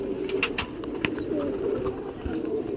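Young pigeons sit in a loft and coo softly in a low continuous murmur, broken by a few faint clicks and brief, higher chirps close by.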